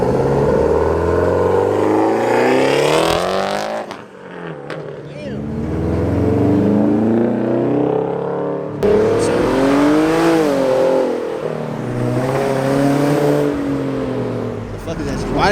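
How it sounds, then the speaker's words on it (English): A car revs its aftermarket exhaust at a Raleigh park car meet, a loud nearby engine roaring up and down in repeated pulls with a brief drop near four seconds, while people talk over it. "That's the type of exhaust I'm talking about."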